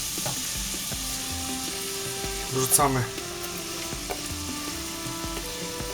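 Chopped onion hits hot butter with a sudden sizzle, then a steady crackling fry continues softly beneath a voice, while cooking chicken in creamy chilli sauce.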